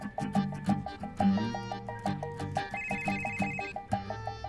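A telephone bell rings in a steady, evenly spaced pattern of rapid repeated chimes, moderately quiet, continuing throughout alongside a brief higher electronic tone.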